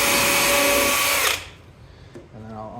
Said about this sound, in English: I'm just going to go ahead and drill through